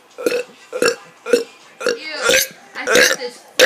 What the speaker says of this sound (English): to be doing a mega burp.